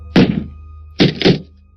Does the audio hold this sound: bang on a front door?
yes